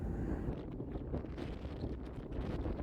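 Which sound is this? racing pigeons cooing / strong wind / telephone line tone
strong wind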